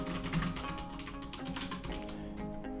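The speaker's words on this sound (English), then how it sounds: "you can just go ahead and type your message back" Light, rapid taps on a computer keyboard as a reply message is typed, quiet clicking running steadily beneath a constant background hum.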